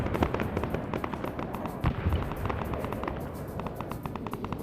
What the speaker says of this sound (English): Massive airstrike in that position.